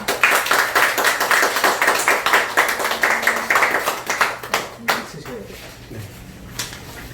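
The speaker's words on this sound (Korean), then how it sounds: "박수로 일단 한상훈 선생님을 맞이하는 걸로 하겠습니다" An audience at a lecture on boosting immunity against COVID-19 claps steadily to welcome the speaker. The applause is dense at first, then thins out into scattered claps before fading.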